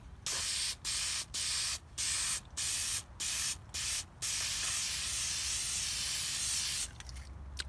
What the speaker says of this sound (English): Spray the back part gold.